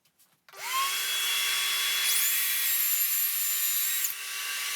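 A power saw cuts wood on a Festool MFT 3 multifunction table, giving a steady, close, high whine that holds for about four seconds after the motor spins up.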